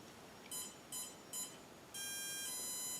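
Electronic speed controller for a drone powering up: three short, quiet electronic beeps in quick succession, followed by a longer sustained arming tone, heard alone in a quiet room.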